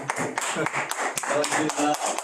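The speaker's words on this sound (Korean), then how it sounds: "박수로 환영하겠습니다." Audience applause welcomes a priest arriving to give a church lecture: sharp, fairly close claps in an uneven patter, with a voice briefly speaking over them.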